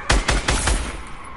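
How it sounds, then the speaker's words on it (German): A burst of about four rapid gunshots in Fortnite aimed at zombies, loud and punchy, with the final report trailing off into a decaying echo. "Er schießt gerade auf die Zombies"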